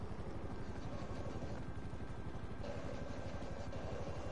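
A video game helicopter gives a steady, loud, rhythmic rotor thump with a constant engine drone, close and unbroken throughout, with no talking.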